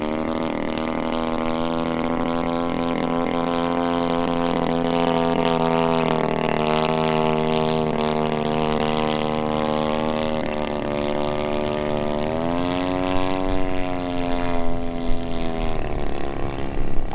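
A 50cc gas-engine Maxford USA Antonov An-2 radio-controlled model plane cruising at about quarter throttle, its buzzing, droning engine note steady and loud, rising and falling slightly in pitch as it flies, with no voices.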